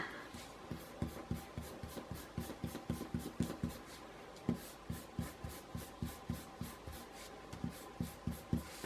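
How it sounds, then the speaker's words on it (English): A pencil eraser rubs across paper to remove guidelines, giving a rhythmic series of soft, close scrubbing strokes with no talking. "I'm going to erase all that guidelines."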